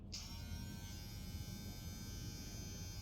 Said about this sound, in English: It's a very quiet clipper.